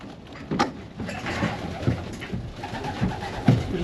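Pigeons coo in a loft in low, rhythmic murmurs, several birds overlapping at close range, with soft fluttering and shuffling noises in the background.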